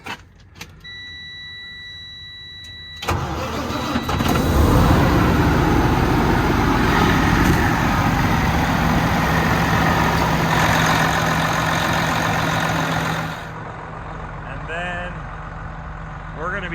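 A Cummins-powered truck engine cranks and fires, then settles into a loud, steady diesel idle that drones on for about ten seconds before cutting off, with faint background noise.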